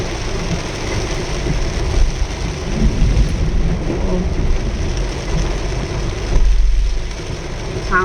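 Heavy rain pours during a drive near an elephant village in Surin, Thailand, a continuous dense wash with low rumbling under it that holds steady for eight seconds.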